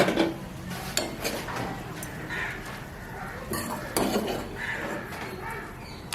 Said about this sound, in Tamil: இதுக்கெல்லாம் போட்டுட்டு நல்லா கலக்கி விடுவோம்